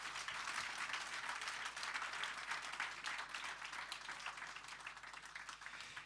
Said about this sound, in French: on peut t'applaudir très fort